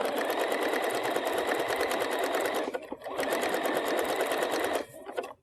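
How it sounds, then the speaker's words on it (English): A sewing machine stitches quilt rows together in a steady, close, fast whir, pausing briefly twice before running on. "make sure that when you do sew the rows together that you take care of that little open space"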